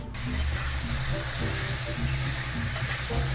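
A tofu scramble fries in a pan, giving a loud, continuous close sizzle and hiss with occasional stirring scrapes, with no talking.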